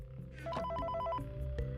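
Ringing telephone in a Minecraft survival game, a patterned electronic ring repeating across the middle of the clip over steady game background sound, with no speech.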